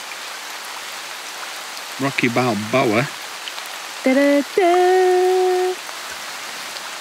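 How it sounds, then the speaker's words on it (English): Steady rain hisses continuously on a rocky surface close by in Robin Hood's Bay, with a person's voice and a drawn-out sung or hummed tone cutting in partway through. "It is raining."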